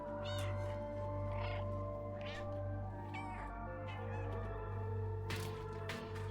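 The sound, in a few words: cat meowing in the video game Stray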